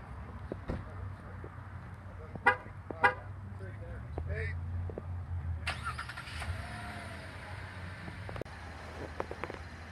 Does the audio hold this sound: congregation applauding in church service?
no